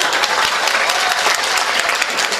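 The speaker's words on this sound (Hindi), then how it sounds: "अभी ये एक बार ताली बजा के जरा हुक्म दे दें यहाँ पे" Loud, dense audience applause fills a mushaira poetry gathering in Deoband, a continuous wash of many hands clapping close and steady without a break.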